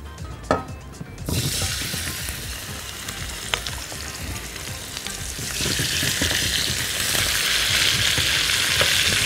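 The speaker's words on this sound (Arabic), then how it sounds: "تعالوا نحط نقطه زيت وهنزل الفراخ على طول تتحمر، طبعا على الوش اللي فيه الجلد الاول" Chicken pieces fry skin-side down in a little oil for a caramelized-onion chicken dish, giving a loud, steady sizzle that swells after the first second and keeps crackling throughout with no talking.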